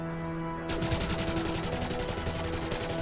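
Rapid automatic SMG fire in Elite Dangerous, a dense, continuous stream of loud close shots that starts abruptly after a brief quiet moment and keeps hammering without pause.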